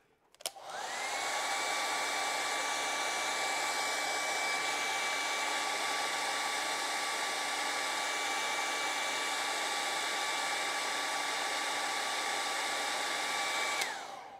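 A hair dryer runs continuously for about fourteen seconds, drying a wet watercolor painting, with a steady loud whooshing hum and a constant whine that start and stop abruptly, no speech.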